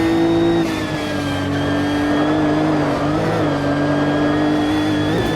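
Race car engine in Automobilista 2 holding a loud, steady high drone on a wet track, pitch dipping slightly and recovering as the car works around a corner, continuous with no voices.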